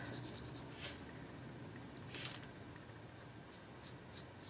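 A marker scratches softly back and forth across a paper image while it is colored in yellow for a handmade Christmas card, a faint steady rubbing with a few brighter strokes and no talking.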